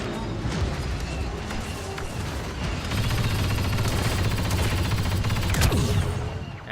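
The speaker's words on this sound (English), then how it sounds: "Sentry guns ready." Sentry guns fire during a Star Wars Battlefront 2 Galactic Assault multiplayer match, rapid crackling bursts and sharp reports over a dense battlefield roar, loud and close, with a sharper burst near the end.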